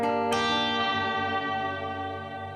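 Two chords ring out on a lightly overdriven electric guitar, the second struck quickly after the first, then sustaining and fading with lush reverb.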